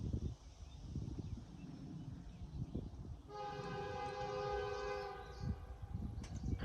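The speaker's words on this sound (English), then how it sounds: "Now here is the spray train at Udney." CN weed spray train hauled by rare SD40-2W units 5722 and 5349 passing the Udney crossing: a quiet low rumble, then a long loud blast of the multi-tone horn that holds for a few seconds before fading.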